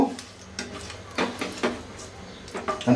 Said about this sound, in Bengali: এর মধ্যে আমি 2টা তেজপাতা, 4টা শুকনা মরিচ আর 3-4 টুকরা ছোট ছোট দারচিনি, এগুলো দিয়ে একটু নাড়াচাড়া করে নিব